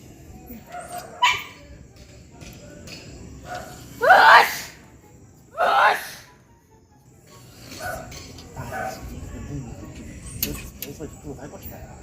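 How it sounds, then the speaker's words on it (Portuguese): Outdoors in the street at night, a person has a sneezing fit, with two loud, strong sneezes in quick succession amid background noise and some nearby chatter. "No meio da rua, no meio da rua espirrando."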